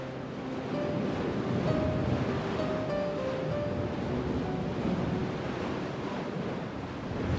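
Ocean swell washing and surging against the damaged hull of the French destroyer Surcouf after its collision with a Soviet tanker, a steady, loud, broad rush of water with wind noise across the microphone and no voices.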